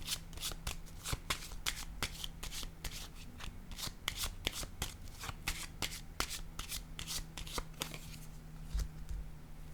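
Tarot cards are shuffled and handled at close range in a dense run of crisp papery flicks and snaps that continues steadily throughout, with no voice.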